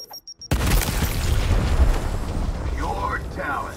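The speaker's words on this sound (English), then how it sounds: "Frag out!" A frag grenade detonates in the video game Gears Tactics, a loud booming blast with a rumbling tail after a brief quiet beep, and a voice calls out as the explosion fades.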